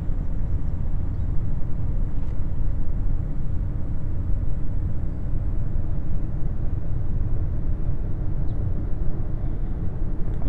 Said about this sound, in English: you're inside a roaring truck